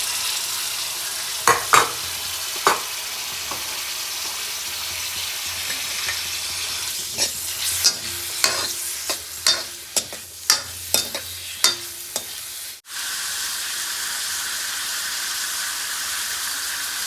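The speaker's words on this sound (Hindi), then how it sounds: "तेल गर्म होने के बाद मैं सारी चीज़ें इसके अंदर प्याज, टमाटर और अपना मिर्ची ये डाल देता हूँ।" Onion, tomato and chilli frying in hot oil, a continuous close sizzle broken by a run of sharp spatula scrapes and taps against the pan as the mix is stirred, then a sudden drop and steadier hiss.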